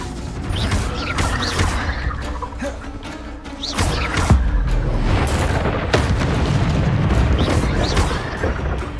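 Spells cast in the Hogwarts Legacy video game: a busy run of whooshing bursts, thuds and booming impacts, with several sharp hits standing out over a dense, rumbling background.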